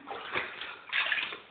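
Water sloshing and splashing in a tub as a pet dog is bathed and swims in shallow water, steady close wet swishing with a stronger surge near the end, no talk.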